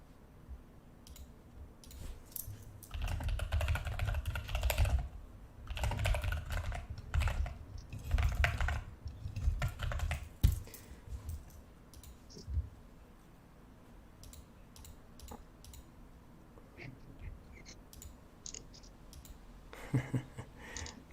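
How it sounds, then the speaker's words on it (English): Fast typing on a computer keyboard, dense bursts of clattering keystrokes in the first half, then sparser scattered clicks and taps, close-miked and fairly quiet. "I'm typing furiously."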